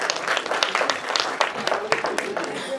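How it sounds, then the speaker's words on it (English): An audience at a panel discussion gives a short round of applause for the panelists, scattered claps close by with voices talking alongside. "Please give our panelists a round of applause."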